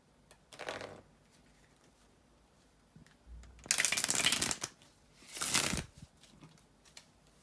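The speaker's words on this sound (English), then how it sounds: "just give me a couple of seconds to shuffle the cards" Tarot cards are shuffled by hand in several quick riffling bursts, close and crisp, separated by short quiet gaps, with no speech.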